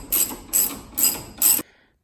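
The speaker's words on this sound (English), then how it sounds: "We'll finish removing the 17 mil bolt down here." A ratchet wrench backs out a 17 mm bolt under a Honda S2000 during a coilover suspension install: four quick, evenly spaced bursts of clicking, close and crisp, then silence.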